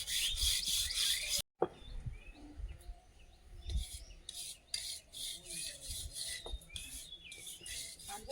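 Hand rubbing and smoothing a surface during household building work, heard as repeated close rasping strokes in uneven bursts with a brief pause early on, while birds chirp faintly in the background.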